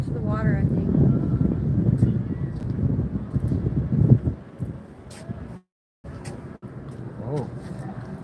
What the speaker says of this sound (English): Gets more and more windy out here